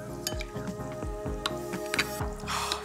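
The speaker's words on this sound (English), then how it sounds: "and then we'll give that a stir." A spoon stirs squeezed orange juice into Greek yoghurt in a bowl, giving a run of quiet, evenly spaced scrapes and soft taps close by, with no talking.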